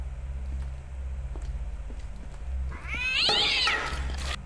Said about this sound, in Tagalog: Okay, may pusa ako narinig.